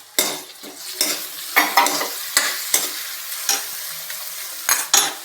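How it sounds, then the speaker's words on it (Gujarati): Tomatoes tossed into a hot pan of fried onions for aloo paratha filling, sizzling under a quick run of about ten close, crisp spatula scrapes and stirs, with no talking. "હવે ટમેટા નાખીશું,"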